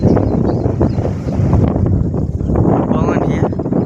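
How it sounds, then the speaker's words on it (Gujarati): Strong wind buffets the microphone on an open farm, a steady loud roaring rumble that gusts and eases without pause. "પવન બહુ એટલે બહુ પવન છે"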